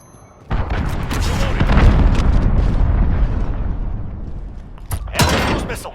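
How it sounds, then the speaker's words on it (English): Cruise missile strike in Call of Duty: Modern Warfare (2019), a heavy, sustained blast with rumbling roar lasting several seconds, followed by a second sharper burst near the end. "Allied cruise missile launched."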